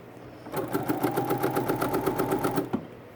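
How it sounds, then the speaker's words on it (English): A Bernina sewing machine stitching a narrow hem with the #10 edgestitch foot, a close, steady rhythmic whirr of rapid needle strokes for about two seconds before stopping. "Stitch, stitch, stitch, stitch down to where I cut it"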